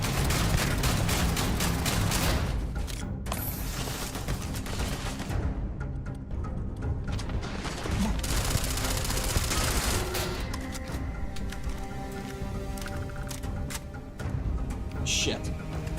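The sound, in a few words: gunfire in the video game Starfield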